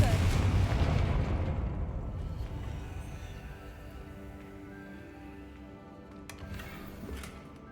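A Confringo fire spell detonates in a video game, a loud booming burst at the start that rumbles and slowly fades, with voices talking alongside it.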